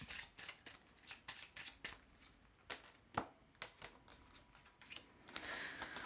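Tarot cards are shuffled by hand, close and quiet, in a run of soft, irregular riffling flicks and slaps with no one speaking.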